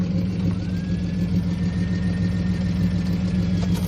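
A right-hand-drive BMW E46 car idles while warming up, a steady low engine rumble that holds even and continuous throughout, with no voices.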